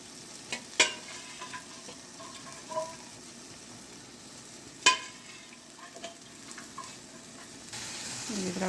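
Rajma curry ingredients sizzle and fry in a pan, a steady hiss punctuated by a few sharp clinks of stirring, close up, with no talking.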